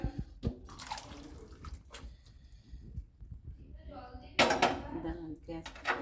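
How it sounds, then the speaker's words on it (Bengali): Cooked rajma, kidney beans in thick gravy, is tipped from a pressure cooker into a kadai, with wet plops, drips and clanks of metal cookware in a quiet kitchen. "আমি এই কড়াইয়ের মধ্যে ঢেলে দিলাম"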